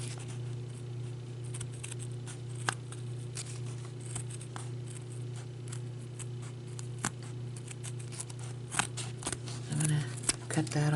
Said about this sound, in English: I'm leaning the blades of the scissor against the base, and I'm just taking my time cutting this very slowly